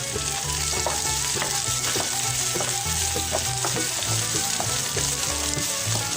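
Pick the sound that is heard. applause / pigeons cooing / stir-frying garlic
stir-frying garlic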